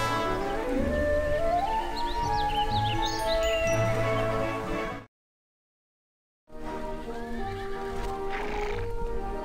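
Horses in the Barbie Riding Club video game whinny in long rising and falling neighs over steady clip-clopping hooves, with a short silent break midway before more neighing resumes.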